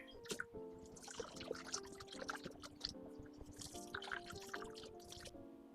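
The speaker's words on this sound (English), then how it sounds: "Rinse these off, get all the dirt off of them." Portobello mushrooms rinsed under running water at a kitchen sink, with close, steady dripping and splashing that rises and falls over a low trickle, and no talking.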